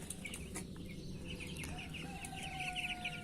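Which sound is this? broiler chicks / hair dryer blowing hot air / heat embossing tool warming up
broiler chicks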